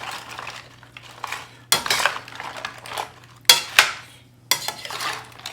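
Tortilla chips being tossed in chili sauce in a bowl, making several sharp scraping and clattering bursts of utensil on bowl with quiet gaps between them, heard up close.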